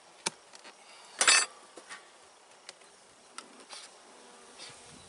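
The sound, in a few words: agitated queenless honeybees buzzing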